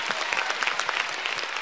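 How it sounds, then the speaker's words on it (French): A congregation at a church worship service claps together in a dense, lively round of applause that fills the hall without a pause. "un bel applaudissement dans la salle"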